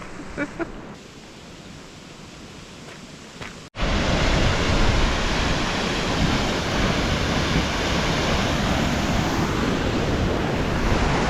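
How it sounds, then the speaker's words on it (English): A large roadside waterfall roars as a broad, steady wash of rushing water, loud and close, after a quieter stretch at the start. "That's a pretty big waterfall just on the side of the road."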